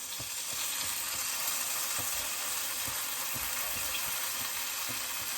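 Sweet potato fritters sizzle and fry steadily in a pan, a constant close hiss with faint occasional taps, alone with no talking.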